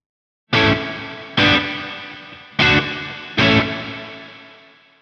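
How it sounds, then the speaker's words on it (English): Four loud guitar chords struck one after another, each ringing out with a bright, smooth plate-style reverb tail that decays slowly between strikes. "Then a plate reverb."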